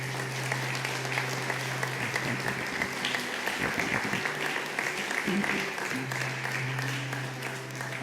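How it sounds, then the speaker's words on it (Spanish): A church congregation applauding during a Sunday morning service, a steady wash of many hands clapping at moderate distance throughout, with a low hum underneath and a voice speaking over it. "Puede dar un aplauso a Jesús en esta mañana."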